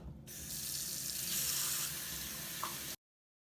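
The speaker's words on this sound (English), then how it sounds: "And rinse them very, very well." Tap water runs steadily into a sink as hands are rinsed before cooking, a continuous close splashing hiss that stops abruptly.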